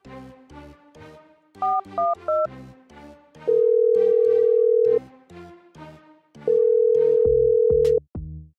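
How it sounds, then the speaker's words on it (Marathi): Telephone dialing tones beep over a musical backing, followed by two long steady ringback tones with a pause between them as a phone rings unanswered after a number is dialed. "दोन रिंग्स वाजल्या पण तिने काही फोन उचलला नाही."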